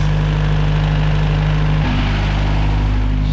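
A Nissan KA24DE engine idles steadily up close with a low, even hum and faint clackety ticking, shifting slightly in pitch partway through.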